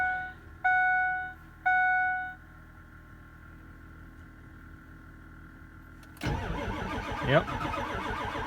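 A cold 7.3 Powerstroke diesel in a Ford F-350 truck cranks on a newly replaced starter, a loud, close churning burst near the end. Two electronic chime tones and a quiet lull come before it.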